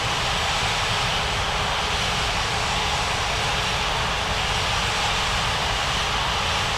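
An airliner's jet engines roar loudly and steadily at full power during takeoff in a flight simulation game, a dense unbroken wash of engine noise with no voices.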